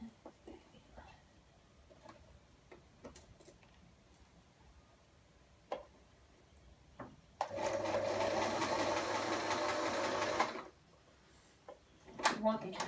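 A sewing machine stitching fabric runs in one steady burst of about three seconds close by, surrounded by quiet handling taps and clicks, with a voice speaking softly at points.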